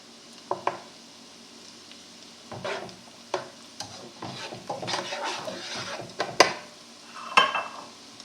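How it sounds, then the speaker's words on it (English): Baby Bella mushrooms sautéing in melted butter, with soft intermittent sizzling and scattered utensil scrapes and clacks against the pan, close up, growing busier toward the end. "once the butter is melted, we're going to put our mushrooms in. And we'll saute those"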